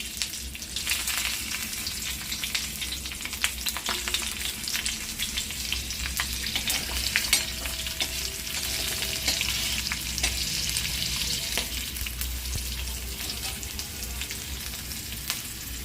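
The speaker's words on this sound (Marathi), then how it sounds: "ह्या मिरच्या आपण आता फ्राय करणार आहोत" Stuffed green chillies frying one by one in hot oil over a lowered flame, a dense crackling sizzle that runs steadily with occasional sharper pops and stirring scrapes, close and continuous with no talk.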